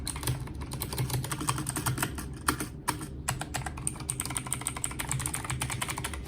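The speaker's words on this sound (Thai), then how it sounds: "มาดูทางด้านของเสียงกดนะครับ เสียงกดก็พอใช้งานได้นะครับ ก็บูสวิตทั่วไปเนาะก็กดมันอยู่เหมือนกันนะ" Rapid, continuous clicky typing on a Marvo KG902 mechanical keyboard with blue switches, sharp keystrokes tumbling over each other at an even pace, close and crisp.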